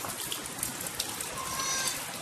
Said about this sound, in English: it's pouring the rain and I'm stuck in the barn